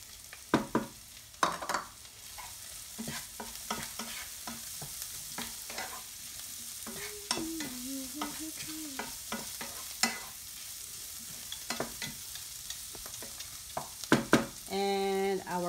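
Cabbage is stir-fried in a pan for pork fried rice with broccoli: a continuous soft sizzle broken by repeated spatula scrapes and clanks, close and irregular, with no talking.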